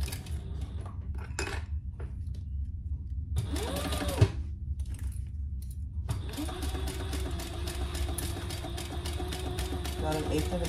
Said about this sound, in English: This is another basting stitch.